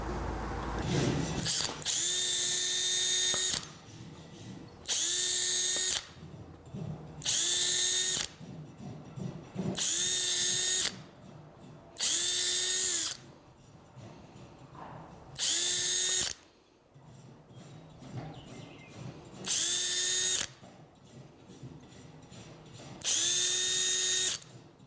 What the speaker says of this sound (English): So I'm going to go ahead and set these back just a little bit and also countersink them.